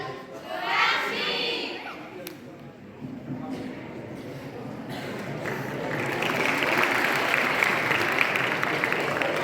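A student crowd at a school farewell in Mehsana, Gujarat, starts clapping partway through and swells into louder, sustained applause. Voices and scattered noise come before it.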